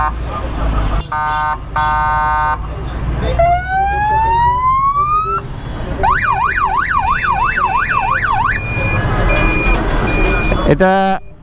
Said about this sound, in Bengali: এটা কি হর্ন লাগাইছেন এই যে টুটু করে উঠে